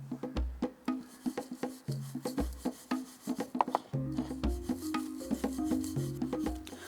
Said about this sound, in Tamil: இதை பிரெட் க்ரம்ஸில் கோட் பண்ணி எடுக்கிறோம்.